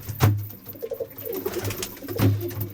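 Pigeons coo in a rooftop loft, giving several low, throaty rolling calls close to the listener, with a fuller burst at the start and another near the end.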